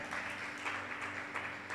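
A church congregation applauds together in a steady, dense wash of clapping, heard faint and somewhat distant with slight swells, as people stand for praise during a sermon.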